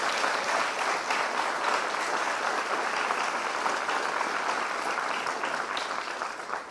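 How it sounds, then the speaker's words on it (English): Audience at a CreativeMornings New York opening-night event applauds the host organization L'Alliance, steady dense clapping filling the room for several seconds before tapering off. "can we give L'Alliance a round of applause?"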